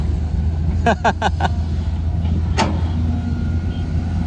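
An excavator engine revs while loading a ten-wheel truck, giving a steady, close, low droning roar with a few brief higher clicks and a voice faintly present alongside.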